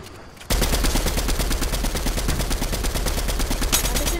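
Rapid automatic gunfire in a shooter video game, a loud close burst of dense, evenly spaced shots running continuously for several seconds.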